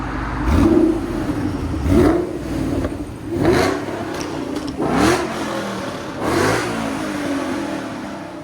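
A 2012 Ford Mustang Boss 302 V8 revs repeatedly in rhythmic bursts, each rising then falling back to a rumbling idle, loud and close with a deep exhaust tone through headers and Corsa Sport mufflers, on E85 tune.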